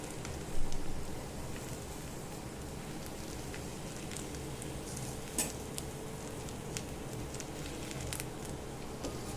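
Egg and bread for a bread omelette frying in a pan make a soft, continuous sizzle with a few light scraping taps, faint and steady throughout.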